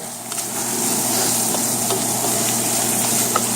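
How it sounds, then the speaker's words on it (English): Rice sizzles and fries in a pan for Mexican rice while being stirred, a steady close crackle with faint scraping strokes throughout, no talking. "I'm going to go back and just kind of stir it all in together"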